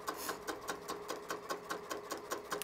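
Sewing machine running slowly while stitching fabric for a phone case, a soft regular mechanical chatter of about four stitches per second, quiet and alone.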